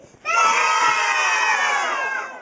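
A crowd of children shout together in one sustained, loud burst lasting about two seconds, then it fades.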